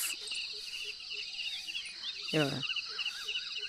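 Sparrows chirp in a farm field in the morning, with rapid high twittering calls repeating over a soft outdoor background and one louder burst of chirps near the middle.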